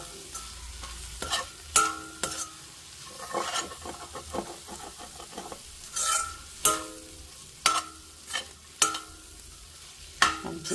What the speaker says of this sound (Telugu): ఇప్పుడు ఇది మనం మళ్ళీ మొత్తం మంచిగా కలిపేసుకోవాలి